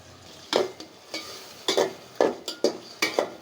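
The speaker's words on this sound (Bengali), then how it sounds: "তো চিংড়ি মাছটা এদিকে ভাজা হইতে থাক" Prawns seasoned with turmeric and chili fry in oil in a pan, with a soft sizzle under a series of sharp, rhythmic spatula scrapes and stirs, about eight strokes in quick succession.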